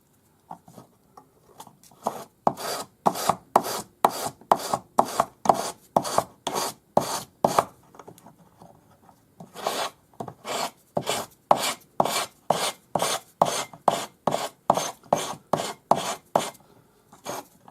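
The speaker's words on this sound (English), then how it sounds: "I'm using 400 grade wet or dry sandpaper on a sanding stick." A bangle is sanded with 400 grade wet or dry sandpaper on a sanding stick, tidying the join on a zigzag-shaped bangle. The result is a close, steady run of short rasping strokes in quick rhythm, with a brief pause midway and no talk.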